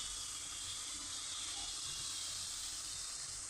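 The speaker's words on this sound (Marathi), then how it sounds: "तूप तापलं आहे. आता आपण गाजर टाकूया." Grated carrots frying in hot ghee over a low gas flame for carrot halwa, a steady, even hiss of frying that holds constant throughout, soft and close with no talking.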